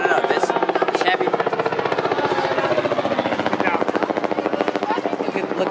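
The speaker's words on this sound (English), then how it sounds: "Look at the helicopter." A helicopter thunders close overhead with a fast, steady rotor chop that stays loud throughout, while people talk beneath it.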